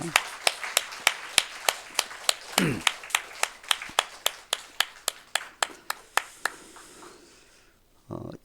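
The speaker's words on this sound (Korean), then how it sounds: "우리 다 모두를 위해서 박수로 한번 축복하겠습니다." A congregation at a Korean Sunday morning church service claps in a steady, rhythmic beat. About twenty crisp, even claps sound close by and fade out near the end.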